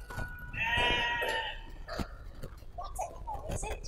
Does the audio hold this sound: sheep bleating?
yes